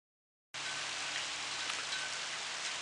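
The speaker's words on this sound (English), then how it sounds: "another serious downpour" A heavy rain downpour starts suddenly and keeps going as a steady, dense hiss of water. No voices are heard over it.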